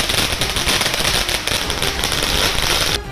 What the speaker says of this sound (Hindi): आतिशबाजी शुरू कर दी